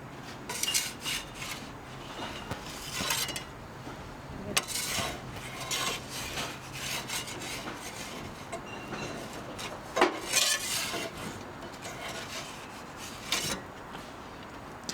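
A metal turning peel scrapes and rubs against the stone floor of an Ooni Koda 16 gas pizza oven with an L-shaped burner, giving a few sharp rasping strokes over a steady background, with no talking.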